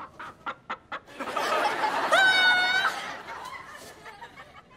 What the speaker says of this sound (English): Why are you afraid of the chicken?